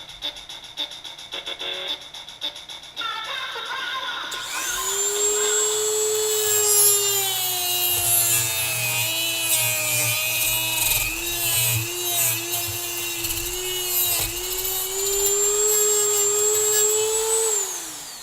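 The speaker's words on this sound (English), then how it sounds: "A lot of RPMs on this Dremel reinforced blade to gnaw through that plastic on there." A Dremel rotary tool fitted with a reinforced cutting wheel saws through a plastic case holding a graded trading card. A faint hum comes first, then a loud, high, steady whine with wavering pitch that continues for about fourteen seconds, close up, with no talking.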